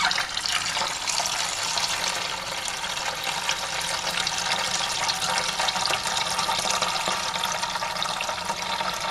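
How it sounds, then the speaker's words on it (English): Port-style wine being pumped and transferred between vessels during home winemaking, a steady rushing, splashing liquid flow with a constant hiss that runs unbroken with no speech. "Pumping and transferring wine."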